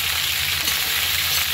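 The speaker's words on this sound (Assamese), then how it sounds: "ইয়াতে মই কাটি ৰখা ঢেকীয়াখিনি দি দিছোঁ।" Chopped fiddlehead fern goes into a pan of browned onion, giving a short burst of close, loud, continuous frying sizzle with no voices.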